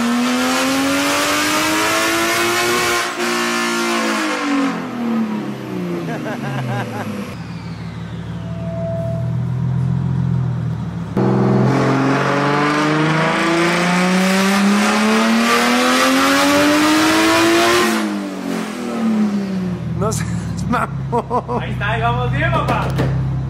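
A turbocharged BMW engine on a dyno, tested at low boost with the wastegates bypassed, revs loudly and up close. Each pull climbs steadily in pitch and then drops off sharply, and several pulls run back to back with brief pauses between them.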